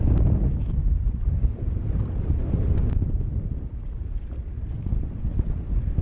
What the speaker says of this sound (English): today we've got some big old gusts coming through